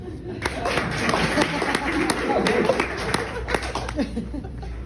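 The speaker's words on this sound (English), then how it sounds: "Round of applause if you've seen this show" Comedy club audience at the Laughing Academy breaking into scattered applause mixed with chuckles and laughter, claps loose and uneven across the room under continuing chatter.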